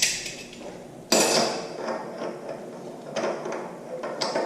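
A drill chuck is fitted into a machine spindle, making metallic clanks and scraping knocks, one sharp close impact followed by lighter rattling contacts, with no talking.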